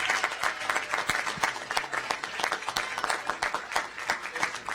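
Applause during a council session meeting, a crowd of supporters clapping with dense, sharp, uneven hand claps that keep going through the whole stretch at a moderate distance, loud rather than faint.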